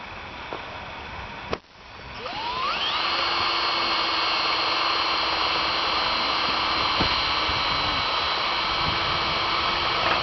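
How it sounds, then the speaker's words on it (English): A power drill spins up after a sharp knock and drives a self-tapping screw into a metal tunnel frame bar, a loud steady high whine held for several seconds, close by. "So we're going to put a self-tapper in him."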